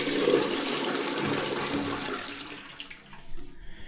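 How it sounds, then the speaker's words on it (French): A toilet flushes weakly, a soft steady rush of water that gradually fades out over a few seconds, heard close in a small bathroom. "regardez, la chasse d'eau coule pas fort"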